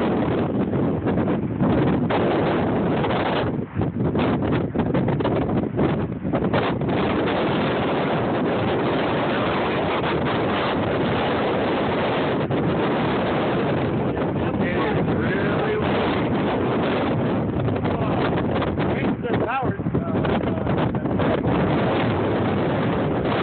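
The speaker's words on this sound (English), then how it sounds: "Really windy." Strong wind during a lightning storm buffets the microphone, making a loud, continuous roar and rumble with gusty surges that carries on throughout without letting up.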